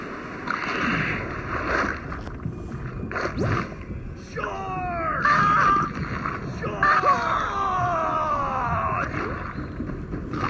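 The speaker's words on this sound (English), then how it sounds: "Sound like there was like 80 people yelling at once." Crowd of people screaming and yelling in the Hungry Shark World video game, a dense, continuous din of many voices with rising and falling shrieks over steady game noise, loudest in the second half.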